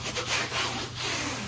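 A damp cloth wipes sealer off the top of a diamond painting in close, rhythmic back-and-forth strokes, a loud, steady rubbing swish.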